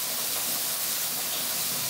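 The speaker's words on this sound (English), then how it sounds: "So now that's frying up there." Fresh herbs fry in hot oil in a pan, a loud, steady close sizzling hiss that stays constant throughout, with no talking.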